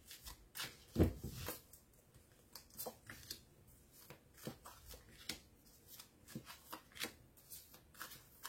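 Tarot cards being shuffled by hand, close and quiet, with a burst of riffling near the start followed by repeated soft slaps and flicks of cards in an uneven rhythm.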